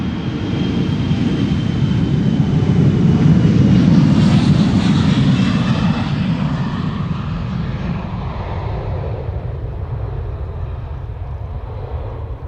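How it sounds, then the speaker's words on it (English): An Embraer 175 jet departing Amsterdam Schiphol on the Polderbaan runway, a loud, close, sustained engine roar that swells to a peak mid-pass and then slowly recedes, with no voices. "Embraer 175 on their way out."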